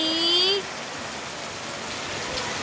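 Steady rain hisses throughout, with a brief high whistling tone over it at the very start.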